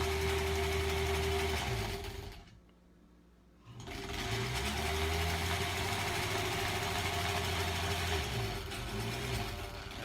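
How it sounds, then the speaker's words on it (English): A Kenmore sewing machine runs steadily with a mechanical hum while sewing a quilt, pausing for about a second midway, then whirring on again at the same pace. "it's a Kenmore sewing machine"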